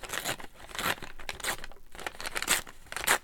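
Decorative craft paper printed with Japanese blossoms is torn by hand in a series of sharp, crackling rips and crinkles, close and fairly loud, with short pauses between tears.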